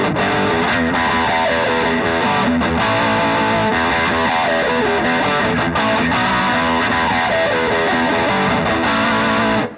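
An Ernie Ball Music Man Steve Morse electric guitar played through its bridge humbucker with heavy distortion, a dense sustained riff that rings loud and continuous for about ten seconds with no talking.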